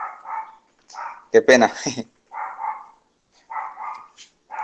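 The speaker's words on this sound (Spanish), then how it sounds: "hay un montón de perros por ahí latiendo" Several dogs bark out in the street in short, repeated bursts spread across the whole stretch, with a brief spoken phrase cutting in partway through.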